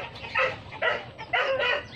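A pet dog named Whitey barks in four sharp bursts while chasing chickens outdoors, the barks close and loud with short pauses between them.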